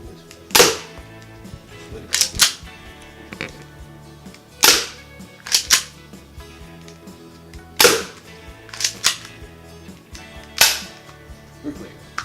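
Air gun shots fired indoors at target practice: roughly ten sharp, close cracks, often in quick pairs, separated by quiet gaps of a second or two, with faint room background and no talk.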